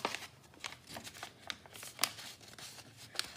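A sheet of paper being folded in half for a paper plane gives soft, close crinkles and a few sharp creasing snaps, quiet and alone.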